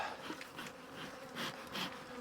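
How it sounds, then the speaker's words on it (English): Honey bees buzz steadily and densely, swelling in agitated surges, close by with no talking. "They as worked up as any bees I've had in a while."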